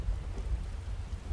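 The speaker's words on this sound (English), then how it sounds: "We are back in Riften, it's raining." Steady rain in Riften, a city in the video game Skyrim, a dense, even hiss with low rumbling underneath, continuous and moderately loud with no voices.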